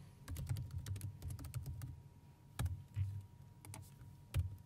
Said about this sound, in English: just click here, add, type the sender name and the email.